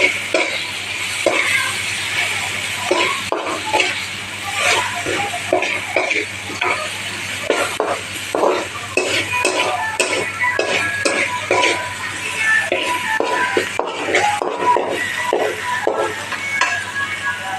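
Chicken legs stirred with spices in a pan, a spoon scraping and clattering in steady repeated strokes over a soft sizzle, close and fairly loud, no voices.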